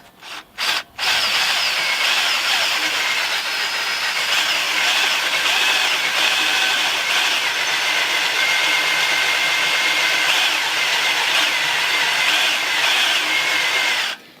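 A drill bit bores into steel pipe with a steady, loud, high-pitched grinding whine. A few brief bursts at the start lead into one continuous run of cutting.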